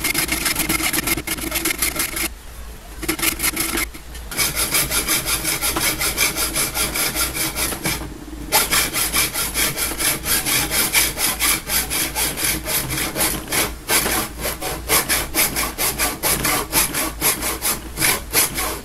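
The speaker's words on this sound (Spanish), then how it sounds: "La técnica más cómoda o más precisa implica en cortar los extremos y luego encontrar el corte en el centro del tubo." A hand saw cuts through the metal tube of a floor lamp with steady back-and-forth rasping strokes, close and loud, pausing briefly a few times.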